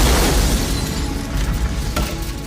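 A loud, sustained rumbling boom fills the scene as a gas explosion blows up an apartment in a film, with a sharp burst near the end under dense low roar.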